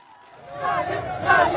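A crowd of cricket fans at Shivaji Park in Mumbai celebrates India's Champions Trophy win, a swelling roar of cheering voices rising over about a second and a half and staying loud.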